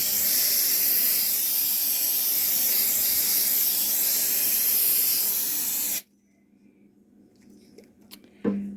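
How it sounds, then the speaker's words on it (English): A continuous, loud hiss of nonstick food release spray runs for several seconds, then stops abruptly, leaving near quiet with a small clunk at the end. "Just going to spray that so when I put this in the pan and get started"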